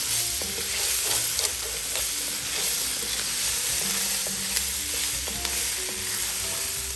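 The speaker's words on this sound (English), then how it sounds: "I'm going to continue to stir this around for a moment" Conchas pasta shells toasting in a pan, stirred with steady scraping and clicking over a continuous close, loud sizzle with small bursts throughout.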